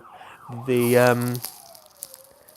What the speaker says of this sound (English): siren that just went past.